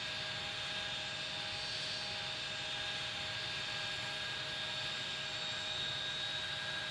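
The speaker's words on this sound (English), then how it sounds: "Another plane wanting to push back as he passes by." Airliner engine whine in Tower Simulator 3 at St. Thomas airport, a steady jet drone with high tonal hums holding evenly across the whole stretch, moderately loud and with no voices.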